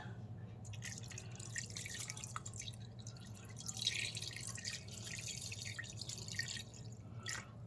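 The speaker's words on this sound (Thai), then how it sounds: "น้ำใบยะนางก็คือจะใส่แบบเทลงไปอย่างนี้นะคะ" Yanang leaf juice poured into a pot of dried bamboo shoot curry with pork, a steady wet trickling and dripping of liquid, fairly quiet and close, with no talking.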